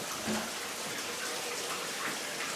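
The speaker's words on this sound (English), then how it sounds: "So we're going to come over here and open up the shower." A household shower is opened and water sprays steadily in a broadband hiss, close and continuous throughout, with no voices.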